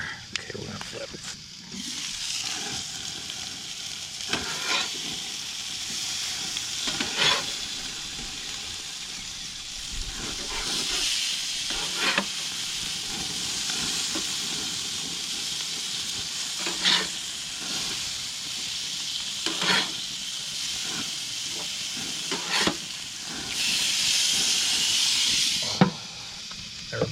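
Beef and plant-based burger patties sizzle on a propane grill at an RV with a steady hiss, punctuated by occasional spatula scrapes and clanks, while a person talks over them.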